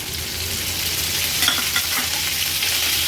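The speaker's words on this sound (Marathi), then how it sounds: "आता ह्या स्टफ केलेल्या शिमला मिरची आपण तेलावर सोडूया" Stuffed bell peppers frying in a thin layer of hot oil in a pan give off a steady, close crackling sizzle with faint stirring scrapes, with no one speaking.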